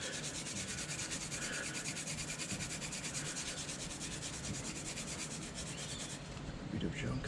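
Steady scraping and rubbing as an engine block's mating surface is cleaned by hand for a rear main seal on a Ford 351 Cleveland, continuous and close for several seconds with no talk.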